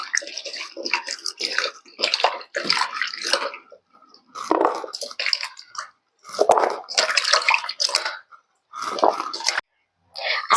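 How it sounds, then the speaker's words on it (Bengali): Cut pieces of sweet pumpkin washed by hand in a large bowl of water, giving bursts of close splashing, sloshing and dripping with short pauses between them, and no voices. "আর এই কুমড়োগুলোকে খুব ভালো করে ধুয়ে নেব।"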